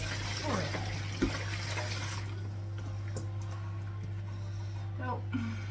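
Dishes rinsed under a running kitchen tap, a continuous close water stream with light clinks, a low steady hum underneath, and a voice heard over it.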